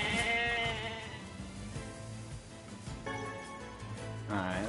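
Sheep bleating in the video game NieR Replicant, a few wavering, drawn-out bleats over a steady bed of game ambience and music, moderately loud and clear.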